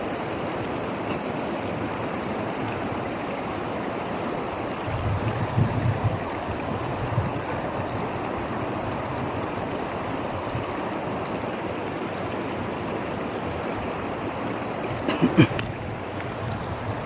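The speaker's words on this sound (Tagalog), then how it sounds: "Isang napakalawak na sapa talaga." Wide main stream on Burias Island flowing with a steady, moderate rush of water, with brief louder splashes and knocks partway through and near the end, and no talking.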